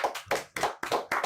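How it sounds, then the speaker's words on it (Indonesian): A few people clap their hands in short bursts, a brisk close group of slaps repeating about five times, loud and near with no voices over it. "Hade tepuk tangan lah tuh."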